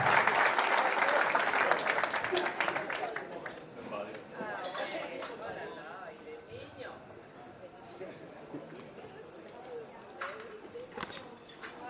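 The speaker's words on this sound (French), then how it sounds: "C'est vos ovations, s'il vous plaît" A crowd at a French-speaking tribute gathering bursts into loud applause and ovation for the first few seconds, then the clapping dies away into murmuring chatter and voices.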